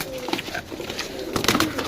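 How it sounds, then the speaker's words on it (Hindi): Pigeons coo in a brief, close burst of soft throaty calls at a pigeon-flying site in Sarai Alamgir, Gujrat, with faint chatter underneath. "ए चेक करो कबूतर यार माशाल्लाह, सही कबूतर"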